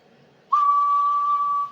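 A single steady whistle blown into a radio microphone for an audio test: a sustained pure tone that starts abruptly after a quiet moment and holds evenly for over a second before cutting off.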